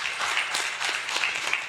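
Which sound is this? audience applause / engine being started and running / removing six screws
audience applause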